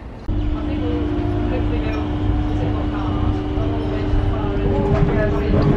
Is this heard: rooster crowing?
no